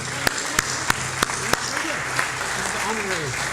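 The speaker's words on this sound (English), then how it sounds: "Another big round of applause" At a senior center volunteer recognition event, a round of audience applause runs beneath voices, punctuated by several sharp, evenly spaced loud claps near the microphone, with people talking over it.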